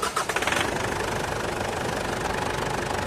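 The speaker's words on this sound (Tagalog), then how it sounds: "pwede mo na ngayon start itong makina ng masubukan" A Ford Everest engine, after a fuel filter replacement, catches after a few quick cranking pulses and settles into a steady, rough idle nearby.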